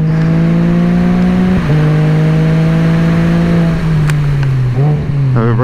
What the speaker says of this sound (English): watch for the throttle, like when I hit it, when bike starts to accelerate